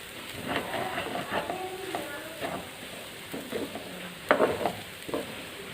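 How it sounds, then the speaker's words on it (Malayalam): A banana, raisin and cashew mixture roasting in ghee, stirred with a spoon in short scraping strokes over a faint sizzle, fairly quiet, with a voice talking at times. "നമുക്കിതെല്ലാം കൂടി നന്നായിട്ടൊന്ന് വരട്ടിയെടുക്കാം."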